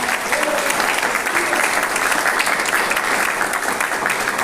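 A church congregation claps continuously during a morning service, a dense, even wash of applause filling the room, with faint voices mixed underneath.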